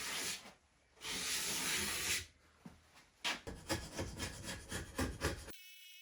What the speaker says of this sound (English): I gave it an aggressive sanding